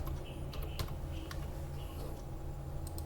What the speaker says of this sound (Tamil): கீபோர்டில் கேப்ஸ் லாக் ஆன் பண்ணிவிட்டு இப்போ டைப் பண்ணுறேன்.